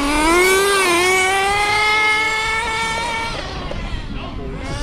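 An HPI nitro RC car engine screams at high revs close by, a loud buzzing whine whose pitch dips and wavers before tapering and fading as the fuel runs out.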